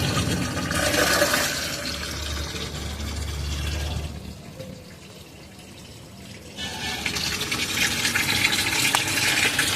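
Water gushes into the tub of a semi-automatic washing machine, a steady broadband rush that drops away for a couple of seconds mid-clip and then returns at full strength, with no talking.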